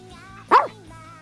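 A single short dog bark or yip sounds once midway, fairly close, against a quiet room with a faint steady hum; no one speaks at that moment.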